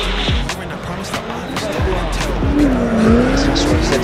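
Drift car at a French drift championship round, sliding with loud sustained tire squeal and engine revving, several sharp skid bursts and a rising whine, with a voice talking over it.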